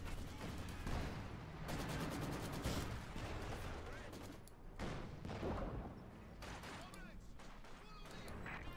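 Battle sounds from the strategy video game Company of Heroes 2: field guns and tank guns firing, with repeated booming shots and rattling gunfire over a dense background, while a commentator talks throughout.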